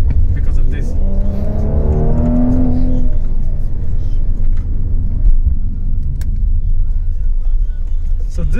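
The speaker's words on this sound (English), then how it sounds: "So this car comes with a whole load of power from the V6 engine." A Mercedes-AMG GLC 43 with a V6 engine revs hard while driving, its rising engine note sweeping upward before settling into a steady loud cabin rumble, with someone talking over it.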